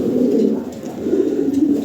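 Lahori pigeons coo in a low, steady, close call that rises and falls over a couple of seconds, with no voices over it.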